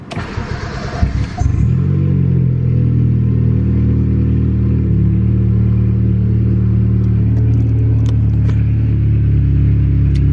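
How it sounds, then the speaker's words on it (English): A single-cam Honda D16 P28 engine cranks briefly, catches with a roar, then settles into a steady, loud idle hum that continues without a break. "we'll turn the car on"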